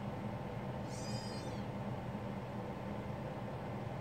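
A cat gives one brief, faint meow while playing with a toy indoors, heard over a steady hiss of background noise with no other sounds.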